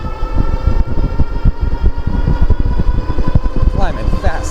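A Grizzly ride-on toy with both stock motors climbs a hill, its front wheel spinning out before it grips. The electric motors whine loudly and steadily, mixed with rattling and drivetrain clatter that never lets up.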